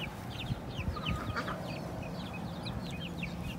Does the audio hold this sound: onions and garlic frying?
no